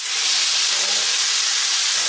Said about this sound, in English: So in the pan we go with all that beautiful juice.